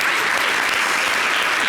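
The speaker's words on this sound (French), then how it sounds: "Applaudissez." An audience at a comedy show applauds loudly and steadily, a dense unbroken roar of clapping from start to finish with no voices on top.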